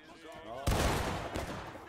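Rifle volley in a Civil War reenactment battle: a loud, sudden broadband blast that rolls into a sustained rumble of massed gunfire, with a second burst shortly after, following faint shouting voices.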